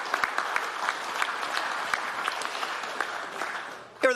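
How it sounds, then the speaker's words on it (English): An awards-ceremony audience claps for the category judges at an agricultural innovation awards event, a steady, dense round of applause lasting several seconds before fading, with a voice starting up at the very end. "So what about a round of applause for the judges in this category?"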